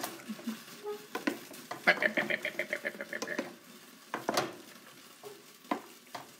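Hot pasta and broccoli are stirred in a pan, giving rapid rhythmic scraping and clattering strokes over a faint sizzle, close up, with brief bursts of motion before and after.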